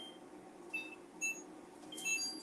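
A kitchen timer beeps during bacon cooking, giving short, faint electronic tones in a few separate bursts over low background hum.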